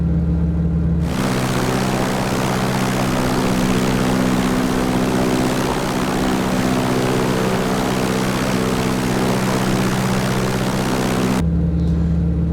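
A T-6 Texan propeller aircraft in Microsoft Flight Simulator drones loudly and steadily in flight, its engine hum and prop buzz constant throughout, with a brief quieter start and end.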